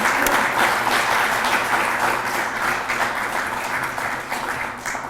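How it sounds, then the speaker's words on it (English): A crowd applauds award winners at an automotive dealership awards event, producing loud, thick clapping that starts strong and eases slightly toward the end while staying continuous throughout. "How about a big round of applause for all our winners today?"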